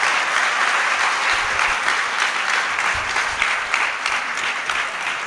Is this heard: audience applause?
yes